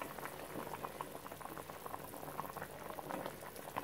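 Vada curry bubbling at a steady boil in a pot, a dense continuous simmering and popping of liquid heard close up with no voices.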